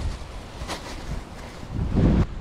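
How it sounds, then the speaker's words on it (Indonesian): Strong wind buffets a microphone at a riverside fishing spot on Sungai Kuala Ketil, a steady low rumble with gusts swelling louder near the end, no voices. "Angin kuat sangat."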